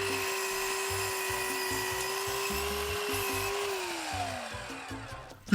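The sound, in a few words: cutting timber for wooden wall frame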